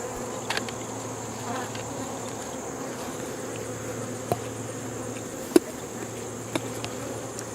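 A box holding roughly two thousand honeybee drones gives off a steady, low insect hum, with a few faint clicks and bumps over the drone.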